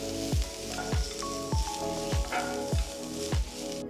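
Vegetables and shredded cabbage stir-fried in a hot pan, sizzling steadily while a spatula strikes the pan in a regular rhythm, roughly six close, solid knocks with ringing tails.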